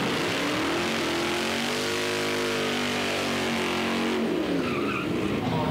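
A Barracuda and a 1966 Chevelle launch down a drag strip, a loud continuous V8 roar with rising, sweeping engine tones as they accelerate, then the note drops away as they pull off into the distance.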